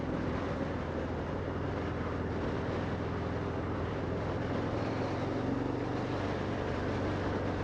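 Harley-Davidson Fat Bob 114 motorcycle cruising after a downshift into third gear: a steady, deep engine drone runs without a break beneath heavy wind rush, with no speech.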